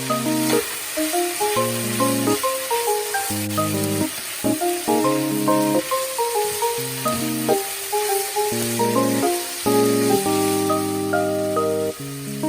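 Bitter melon and minced beef stir-frying in a wok, a steady sizzle with scraping and stirring, close and fairly loud, under background music.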